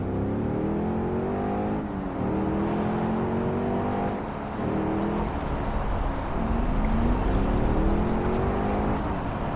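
A car engine revs and rises in pitch through repeated gear changes while driving in the game Saints Row 4, a steady loud droning motor with climbing whines and no talk over it.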